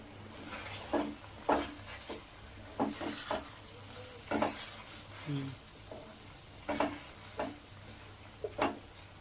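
Vermicelli kesari is stirred in a pot, with soft sizzling under repeated spoon scrapes that come in irregular strokes every second or so, close by and fairly quiet, without speech.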